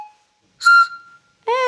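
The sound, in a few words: whistling made by blowing down a bamboo cane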